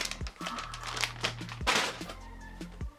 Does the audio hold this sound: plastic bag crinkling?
yes